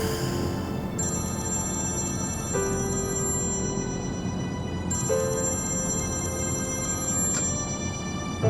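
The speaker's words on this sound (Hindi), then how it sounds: "मत उठाओ मेरा फोन दमीर।" An electronic phone ringtone chirps in repeated bursts over a steady background of dramatic music, fairly loud and close, with no talking.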